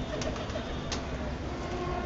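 A pigeon coos softly and repeatedly at close range over a constant background hum.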